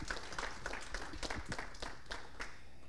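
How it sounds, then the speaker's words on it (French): Scattered audience applause after a talk at a research institute session, a modest group clapping in uneven bursts, fairly faint and without voices. "Alors, on peut l'applaudir une fois déjà."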